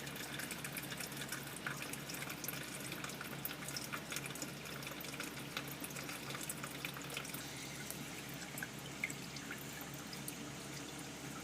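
Diesel fuel drains steadily from a RAM EcoDiesel fuel filter in a faint, continuous trickle with small drips throughout and no talking.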